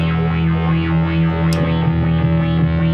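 A held guitar chord through a Solid Gold FX Lysis MK2 pedal on sine-wave modulation, its tone swelling and dipping in smooth, rounded waves at a steady, even pace.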